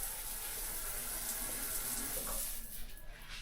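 Strong water flow hissing steadily from a shower in a campsite bathroom, a dense continuous rush heard close up, with no voices present.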